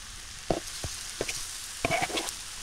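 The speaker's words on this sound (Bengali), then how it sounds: "পাতাকপি ভাজিটা হয়ে গেছে" Cabbage frying in a pan in a Bengali village kitchen, a soft steady sizzle with a few scraping clinks of a spatula stirring, close and fairly quiet.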